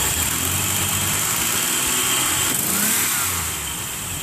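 Engine of a 1995 Nissan Pathfinder D21 with an O2 sensor fault, revving steadily and close by, holding a loud sustained drone for a few seconds before easing off slightly at the end, with no talking.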